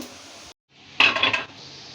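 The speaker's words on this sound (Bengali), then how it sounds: "এই তো এখন আমি একটা ঢাকনা দিয়ে ঢেকে দিচ্ছি" A metal lid settles onto a pot of beef curry with potatoes, giving one short clatter and clink after a brief quiet gap, then a soft background hum.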